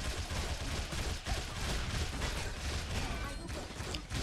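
Rapid gunfire and ability shots from the online action game Hyper Universe, a dense continuous barrage of loud bursts with crashes, under a busy game mix with faint voice underneath.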